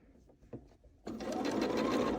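A sewing machine takes a few stitches on a quilt, starting after a second of soft handling noise with a loud, steady, rapid whir that runs close and continuous to the end.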